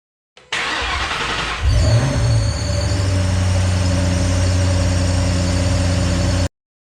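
A 2008 Ford Mustang GT500 cranks briefly, then its engine catches with a loud rev and settles into a steady, rumbling idle close by, with a faint whine running over it and no talking.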